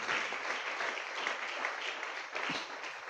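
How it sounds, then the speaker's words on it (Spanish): Congregation in a church service applauding the Lord: steady, dense clapping from a crowd that fills the whole clip at an even level, with no voices over it. "Dele un aplauso al Señor."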